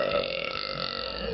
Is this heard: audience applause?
no